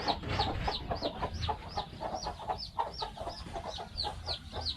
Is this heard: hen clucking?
yes